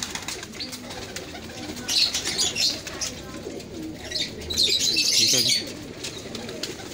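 Pigeons of a prized dub-type breed coo softly and repeatedly close by, with faint chirps and brief rustling, while someone speaks a few words.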